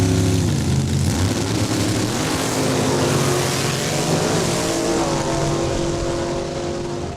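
A Ford Mustang runs down a drag strip at Saskatchewan International Raceway in Saskatoon, its engine roaring loud and steady through the gears for several seconds before fading slightly, with no talking.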